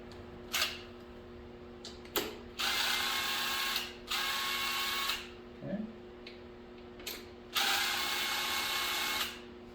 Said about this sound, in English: I'm going to loosen them both here. And they're pretty long-winded, so I'm going to use my DeWalt